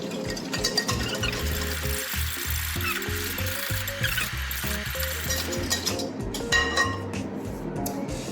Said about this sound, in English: we are going to whisk all of this first